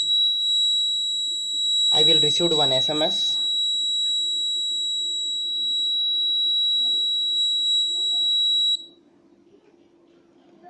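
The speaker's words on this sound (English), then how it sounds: "Gas 255. Alarm on." Electronic gas-sensor alarm buzzer on an ARM-based environment monitor, a steady high-pitched tone sounding continuously for about nine seconds before cutting off, with someone speaking briefly near the start.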